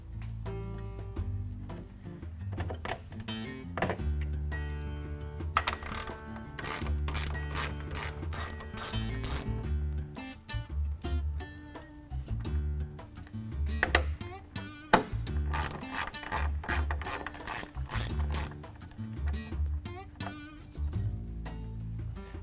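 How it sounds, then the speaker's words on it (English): A ratchet with a 10mm socket backs out plastic-clip headlight screws on a 2018-2020 Ford F-150, giving steady rapid clicking runs that continue through most of the span, with brief pauses between bursts. "we're going to remove this plastic clip as well as these two screws using a 10mm socket"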